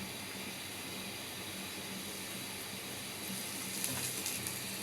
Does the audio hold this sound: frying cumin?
yes